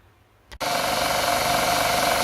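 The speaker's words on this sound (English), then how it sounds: "I'm just going to grind down the bulk, sand it down" A bench sander starts with a short bump, then settles into a loud, steady grinding roar as it works down a copper adapter ring, with no talking.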